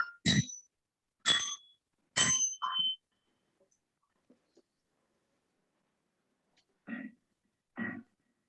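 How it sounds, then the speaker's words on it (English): Montessori bells are struck one at a time, clear ringing tones that ring out and fade, several well-spaced strikes with silence between them, close and fairly soft. "And in Montessori, we use something called as Montessori bells."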